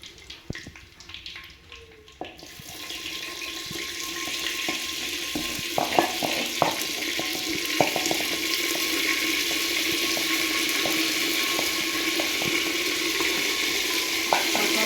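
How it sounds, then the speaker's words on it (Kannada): Masala fries in oil as it is stirred. A quiet start gives way after about two seconds to a loud, continuous sizzle. Scattered clicks and scrapes from stirring run through the sustained frying hiss. "ಮಸಾಲೆನ ಕೈಯಾಡೋದು ಹಸಿ ವಾಸನೆ ಹೋಗೋರ್ಗು ಒಂದು ಐದು ನಿಮಿಷ ಕುದೀತದ ಎಣ್ಣೆ ಒಳಗೆ ಮಸಾಲೆ"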